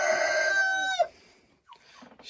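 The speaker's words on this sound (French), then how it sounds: "Ça, c'est mon majestueux coq." A rooster crows nearby, one long, loud, drawn-out call that cuts off abruptly, followed by faint clucks and rustling in a quiet coop.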